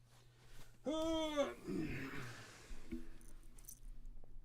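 A house cat named Binks lets out one drawn-out, rising and falling meow up close, followed by rustling and quiet handling noises.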